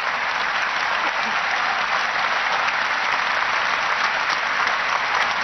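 Prolonged clapping from a big crowd at the Vatican during the conclave period, a continuous, uniform roar of hands that neither swells nor fades.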